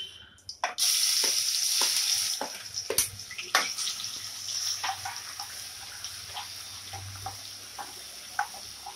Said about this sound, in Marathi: आलं लसूण पेस्ट ही या तेलामध्ये चांगली अशी थोडी लाल होईपर्यंत परतून घ्यायची